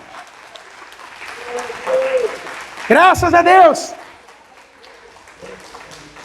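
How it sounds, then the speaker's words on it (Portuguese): A church congregation applauds at a sermon, a broad wash of clapping that swells briefly mid-clip beneath voices speaking and calling out over it. "Pode aplaudir a ele bem forte."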